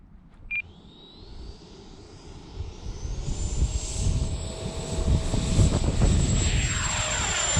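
An XFly Sirius radio-control jet takes off with a rising high-pitched whine from its ducted fan. The sound swells steadily louder over the run and climb, with wind noise and no talking.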